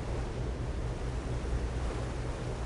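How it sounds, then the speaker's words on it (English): Steady rushing of falling water in a video game, a continuous dense wash of noise with no break and no voices over it. "Follow the sound of falling water."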